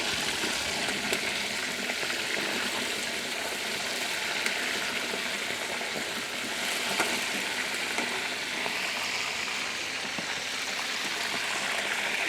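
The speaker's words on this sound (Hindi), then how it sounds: "इसी तरह बाकी चिकन को भी फ्राई कर लेंगे।" Chicken pieces frying in a pan, a dense, loud and continuous sizzle with fine crackle that holds steady for the whole stretch, with no voices.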